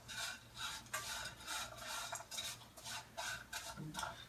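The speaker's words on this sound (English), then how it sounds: "I'm going to keep stirring them around in the oil" Noodles being stirred around in oil in a pan, giving a steady run of scraping, rubbing strokes in an even rhythm, close and fairly quiet with no talking.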